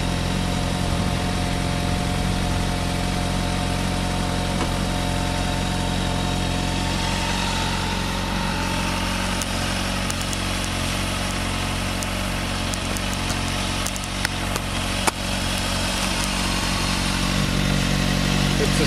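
A stock 2007 Kawasaki Ninja ZX6R sport bike idles close by, a steady, even engine drone with a smooth mechanical hum that holds throughout without revving.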